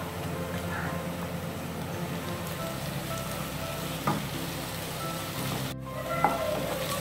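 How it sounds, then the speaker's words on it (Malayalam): Green chillies and ginger-garlic paste sauté in a pan for beef potato bonda, a continuous sizzle with occasional spoon scrapes and stirring clatter close by, with no speech. "പച്ചമുളകിൻ്റെയും ഇഞ്ചി വെളുത്തുള്ളി പേസ്റ്റിൻ്റെയും പച്ചമണം മാറുന്നത് വരെ നന്നായി വഴറ്റി കൊടുക്കാം."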